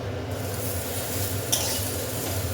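Chopped vegetables added to moong dal frying in red oil: a steady, even sizzle close by, with a brief stirring clink partway through.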